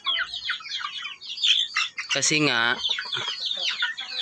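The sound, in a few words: chickens clucking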